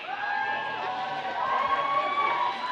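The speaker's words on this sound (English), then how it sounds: "Who's here cheering for the home teams of Tucson Roller Derby?" A Tucson Roller Derby crowd cheers for the home teams in a dense, steady roar of many voices with rising shouts and whoops, loud and continuous throughout.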